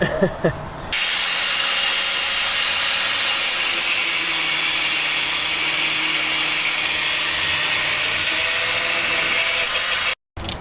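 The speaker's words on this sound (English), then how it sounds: "So we have an angle grinder now at the bottom half." An angle grinder cuts through a seized stabilizer (sway bar) link on a 2008 Pontiac G6, giving a loud, steady, continuous whine that runs almost unbroken for about ten seconds before stopping abruptly near the end.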